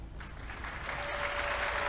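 A live event crowd applauds, the clapping building to a dense, steady patter with a faint tone underneath.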